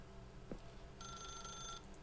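A telephone rings in a video game with a bright, high electronic trill that lasts under a second. It rises over a steady, faint game-music backdrop, and there is no talking.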